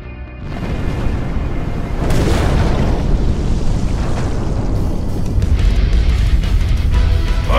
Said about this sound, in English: I know enough about explosions to recognize one!